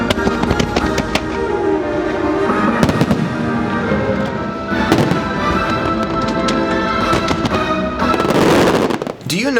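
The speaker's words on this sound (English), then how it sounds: "don't miss those fireworks." Fireworks show at Disney World, with dense rapid crackling, repeated sharp bangs and rumbling bursts, loud and continuous, with a crowd and voices audible beneath.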